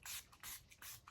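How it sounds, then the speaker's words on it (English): Priming spray misted onto a face in three quick, soft hissing bursts, evenly spaced and close, with near silence between them. "Let's start with priming spray."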